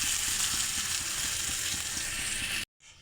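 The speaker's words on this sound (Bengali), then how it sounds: "ডিমের অমলেট হচ্ছে" An egg omelette fries in a pan with a steady, close hiss of sizzling oil that runs unbroken, then cuts off abruptly near the end.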